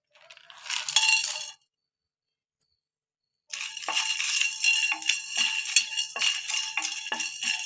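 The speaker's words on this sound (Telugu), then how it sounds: "ఈ మసాలాలన్నీ స్టవ్ సిమ్లో పెట్టి వేస్తున్నాను" Whole spices for a mutton roast, including peppercorns, bay leaf, cinnamon, cloves, star anise and cardamom, drop into a hot pan and rattle sharply in two bursts, a short scatter, a pause, then a longer clinking rattle.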